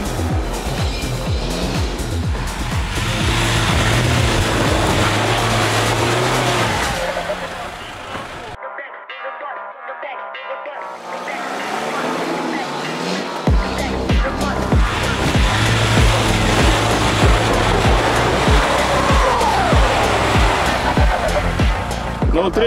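A car engine roaring at a mass car-fighting event, loud and close, sustained over a low drone, with a brief drop to near silence midway before the noise resumes.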